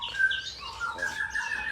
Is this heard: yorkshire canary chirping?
yes